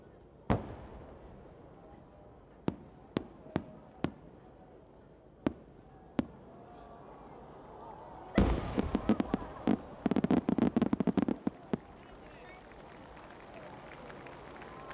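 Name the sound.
Nagaoka fireworks, sanshakudama shells bursting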